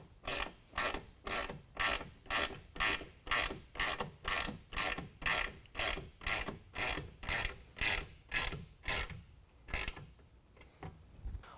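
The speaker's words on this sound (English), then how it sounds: "we'll use a 7/16 wrench or ratchet to tighten it down" A ratchet wrench tightens a Torx bolt on a tonneau cover bracket of a 2019 Toyota Tacoma, with about twenty close, evenly spaced clicks that stop, followed by a few faint handling sounds.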